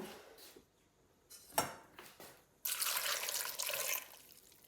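A few faint drips and clinks, then water pours steadily into a pressure cooker of pav bhaji vegetables for a couple of seconds, close and fairly loud.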